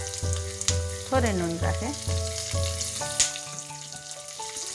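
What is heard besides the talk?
green capsicum frying in a pan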